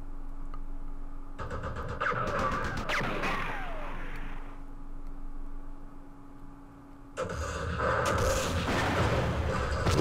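Gunfire and artillery from the Campaign Series Vietnam war game, set in Binh Long: bursts of shots and heavy booms come in two loud clusters, with a brief lull between them.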